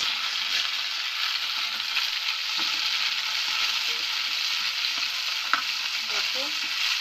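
Green chilies and chopped tomato fry in a pan for dhaba-style egg curry, an even, close sizzling hiss throughout with a couple of light stirring clicks and scrapes toward the end.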